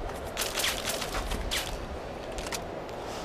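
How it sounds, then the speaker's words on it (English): Gunfire in the video game Fallout 3, with several faint, rapid shots scattered across a noisy in-game background, some bursts clustered together, at low overall level with no one talking. "someone shooting at me"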